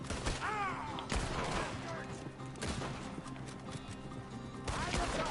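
Gunfire in the video game Red Dead Redemption 2: sharp, loud shots crack at irregular intervals in a gunfight, while voices shout under the shooting.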